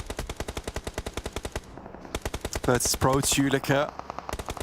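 Rapid automatic gunfire from the PUBG Mobile game during a pro league match, dense evenly spaced bursts close and loud, with a commentator talking over part of it.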